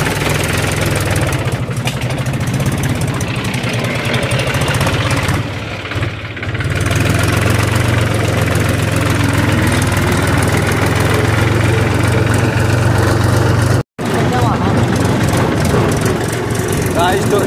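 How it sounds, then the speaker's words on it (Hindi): A broken-down tractor, just push-started, chugs loudly and steadily up close, a low rumbling idle that dips briefly twice, with faint voices underneath. "तो ट्रैक्टर हो गए स्टार्ट"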